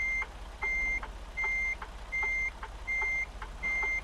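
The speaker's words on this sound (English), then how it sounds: "That backup beeper is way too loud" A truck's backup beeper sounds in a steady repeating pattern, loud, evenly spaced electronic beeps about once every three-quarters of a second over a low engine rumble.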